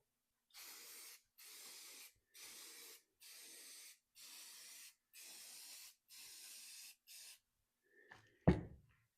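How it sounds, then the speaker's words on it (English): A nearly empty aerosol spray paint can sprays a finish over a scroll saw stand on a tarp. Eight short, even hissing bursts repeat in a steady rhythm, followed by a sharp knock or clatter at the end. "So I'm just going to spray them."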